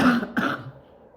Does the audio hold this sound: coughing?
yes